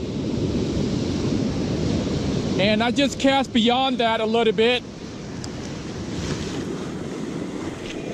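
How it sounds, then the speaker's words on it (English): Surf breaks and rolls continuously on the Oregon coast during surf fishing from the beach, with strong wind rumbling across the microphone. Someone speaks briefly partway through. "So, see the waves crashing right now?"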